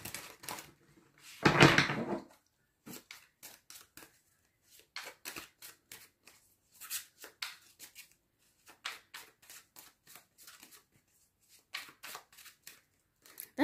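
A deck of tarot cards shuffled by hand, heard as a burst of riffling followed by many short, crisp card slaps and flicks in an uneven rhythm, close and clear with no talking.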